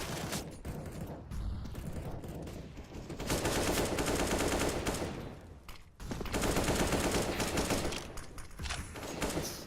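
Rapid gunfire in a competitive esports match, dense bursts of shots crackling through two long stretches with a brief lull between, loud and close without voices.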